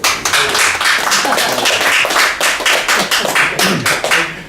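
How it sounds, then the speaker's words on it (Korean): A small group claps steadily and briskly, a dense patter of hands that stays loud throughout with no voices. "이런 선생한테 큰 박수를"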